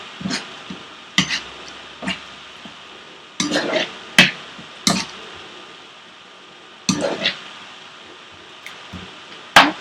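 Prawns being stirred in a pan for Prawn 65, heard as bursts of scraping and clattering spoon strokes at an irregular rhythm over a low, quiet background.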